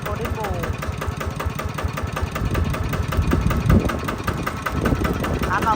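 A Golden Bow 140 diesel engine runs at a steady idle, its regular knocking pulses loud and close, with faint voices underneath.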